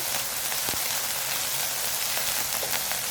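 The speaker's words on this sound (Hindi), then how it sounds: "अब हम इसके अंदर लहसुन अदरक का पेस्ट ऐड करेंगे। इसको आपने लाइट सा फ्राई करना है।" Garlic ginger paste frying in hot oil in a pan, a steady dense sizzle with fine crackling that holds evenly throughout, close and moderately loud with no talk.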